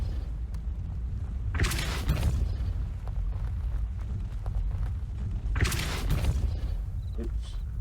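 Repulsor spell bursts in the video game Hogwarts Legacy, two loud whooshing blasts a few seconds apart over a constant rumbling game background.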